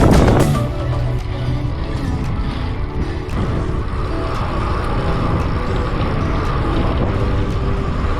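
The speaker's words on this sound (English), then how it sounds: "So windy." Strong wind roars across the microphone during a bike ride along the Van Fleet Trail, a loud, steady broadband rush that continues unbroken from start to finish with no voices.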